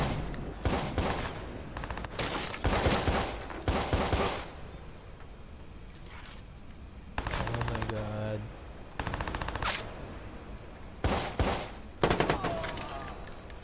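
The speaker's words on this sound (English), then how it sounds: "High-powered guns." Gunfire from high-powered guns in the video game Watch Dogs, with loud bursts of rapid automatic fire separated by short gaps and several separate volleys, one of them marked by a ringing mechanical rattle.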